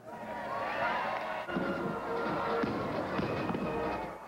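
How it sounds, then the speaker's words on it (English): Fireworks pop and crackle at a distance in a continuous series of bursts, with the low murmur of a crowd underneath, after a 1992 George H.W. Bush whistle-stop speech in Plymouth, Michigan. "the town thanked him with a grand fireworks display"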